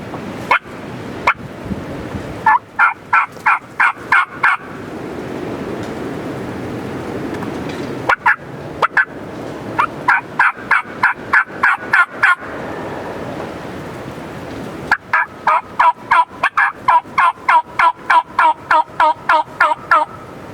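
A wild turkey gobbles during a Wisconsin spring hunt, loud and fairly close, with several rapid gobbling bursts separated by quiet outdoor background.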